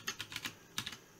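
Several light, quick keystrokes click on a computer keyboard in two short bursts, close and fairly quiet, with a brief pause between them and no talking.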